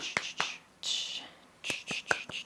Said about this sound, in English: Way too soon clapping my hands there